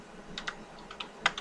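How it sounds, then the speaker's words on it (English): A web address typed on a computer keyboard: a brief run of light, quick key clicks at close range, irregularly spaced, with no talking. "I'll open a new tab and I'll type that in just so we can see"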